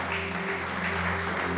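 A church congregation applauds during a sermon in a steady, loud, even wash of clapping, with a sustained low tone, likely music or organ, running beneath it.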